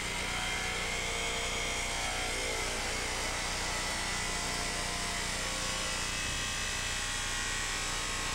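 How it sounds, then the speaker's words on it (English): Loud, steady high-pitched whine of a power tool cutting through the side pillar post trim of a Mazda B2000 pickup, running continuously with a brief dip near the end. "Notice we are cutting through the side pillar post trim"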